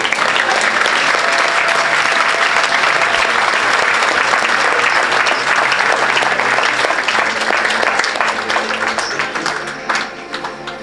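A church congregation applauds during a service, loud sustained clapping from many people that fills the space evenly and tapers off slightly toward the end.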